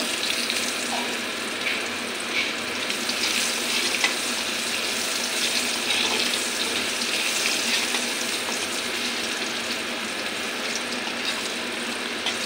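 Dry red chilli tempering crackling in hot oil for a Bengali chilli fish, a steady dense sizzle with scattered pops, held at an even level without talk.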